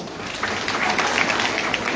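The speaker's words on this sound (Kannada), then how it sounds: "ಚಪ್ಪಾಳೆ ಹೊಡಿಬೋದಲ್ಲ?" An audience at a public speech gives a short burst of scattered applause, with the clapping moderately loud and a faint murmur under it.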